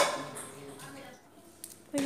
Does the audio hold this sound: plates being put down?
yes